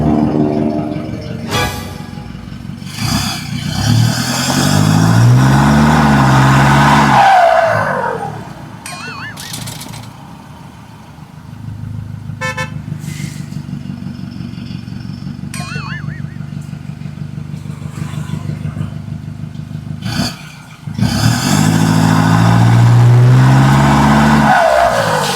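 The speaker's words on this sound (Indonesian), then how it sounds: "Mobil pick-up keren ini tetap kuat menghadapi segala rintangan" A pick-up truck labours along a rough forest track strewn with grass and stones, its engine revving and surging loudly up close, easing to a steady lower drone midway before roaring up again.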